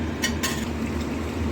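Mutton with yogurt is stirred in a pan, close and moderately loud, with two brief scraping clacks over a steady low frying hiss and no speech.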